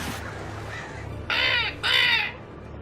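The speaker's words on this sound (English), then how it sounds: "of course the birds are back" Crows in the video game Alan Wake give two loud, harsh caws in close succession over a steady low rumble of game ambience, with no talk over them.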